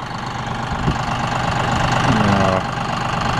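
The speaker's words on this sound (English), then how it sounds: "Using my 5045E John Deere." A John Deere 5045E tractor engine runs steadily while bush hogging on a farm, a close, continuous low diesel drone with a brief rising whine midway and a voice speaking over it.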